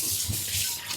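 Stainless steel pan being washed with soap and a non-scratch pad under running water, a brief steady splashing wash with soft scrubbing, close and alone.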